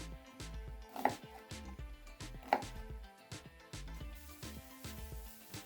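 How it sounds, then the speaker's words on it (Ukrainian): A knife chops an onion on a cutting board in a quick, steady rhythm of close, crisp thuds over soft background music. "я наріжу цибулю."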